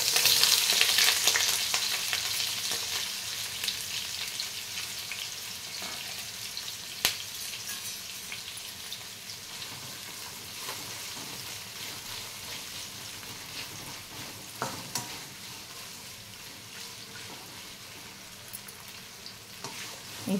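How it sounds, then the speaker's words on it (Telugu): Onions frying in plenty of hot oil for hakka noodles, a dense continuous sizzle that starts loud and gradually settles, with a few occasional clinks and stirs, close and without talk. "ఇప్పుడు మనం ఇందులో ఆనియన్స్ వేసుకున్నాము"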